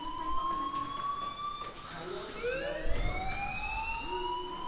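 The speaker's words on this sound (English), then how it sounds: "do you hear that fire alarm?" Fire alarm wailing in the video game Life is Strange, a rising and falling electronic siren tone sweeping repeatedly at moderate loudness over a faint background hum.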